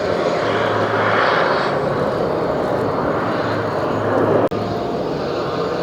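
A jet airliner landing at JFK airport, a loud sustained engine roar that swells and holds steady, with a brief sharp click partway through.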